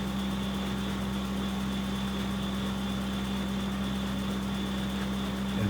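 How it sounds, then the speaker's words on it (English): A Kubota B2601 compact tractor engine runs at a steady idle-to-mid speed, ready to drive the PTO for wood chipping, with a constant even hum and no talk. "I'm going to start the tractor. I'm going to set the RPMs on the tractor up to the proper level"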